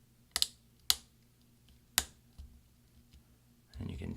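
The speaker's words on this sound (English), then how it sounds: "sometimes you kind of have to wiggle your finger for you to like snap it all into place" A replacement L key on an early 2011 13-inch MacBook Pro is pressed into place, three sharp snapping clicks followed by a softer tap, close and quiet, then faint voice and rustle at the end.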